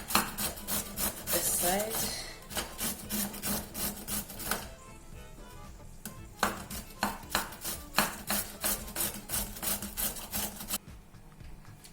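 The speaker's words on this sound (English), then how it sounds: "Using a grater, grate your carrots into the cabbage." Carrots rubbed against a metal grater in quick, rhythmic rasping strokes, close and loud, with brief pauses between bursts and a short spoken remark.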